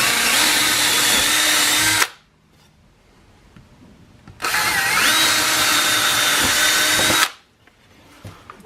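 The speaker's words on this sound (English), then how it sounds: "We'll drill 1/4 inch posts." A power drill with a quarter-inch bit bores into ash wood in two loud, steady runs of about two seconds each, its whining motor dipping briefly under load, separated by quiet pauses.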